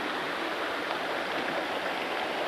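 River water flowing steadily past a mountainside stream bed, a loud, continuous broadband rush with no breaks and nobody speaking.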